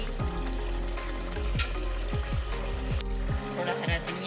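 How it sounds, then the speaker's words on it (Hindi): Chopped ginger sizzles in frying masala with tomato, a loud, steady crackling hiss broken by soft repeated scraping strokes of stirring. "मसाले को हमने अच्छे से भून लिया है और इसमें हम कटी हुई अदरक भी डाल रहे हैं"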